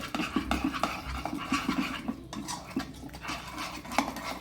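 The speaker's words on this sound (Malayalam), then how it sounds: "ലെമൺ ഒഴിച്ച് നമുക്കിതൊന്ന് നന്നായിട്ടെല്ലാം കൂടെ ഒന്ന് മിക്സ് ചെയ്യാം" A chicken marinade paste with lemon is mixed for a homemade chicken pizza, heard as steady, close scraping and clinking of a spoon against a bowl in quick repeated strokes.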